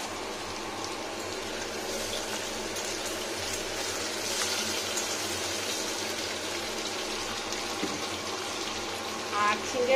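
Diced vegetable pieces, cut fairly large and unsalted, frying in a pan, giving a steady, even sizzle and crackle that runs throughout at moderate loudness.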